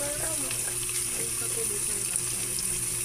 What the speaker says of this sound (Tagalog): Gisa na natin yung ating bawang, sibuyas